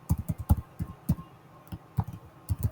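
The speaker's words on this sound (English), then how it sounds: "typing in the email address, I mean the password." A password is typed on a computer keyboard at close range, with quick irregular key clicks in short bursts and brief pauses between them.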